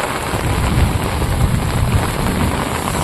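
Rain falling outdoors at a farm, a dense, loud, steady hiss of drops with low rumbling wind noise throughout, no voices.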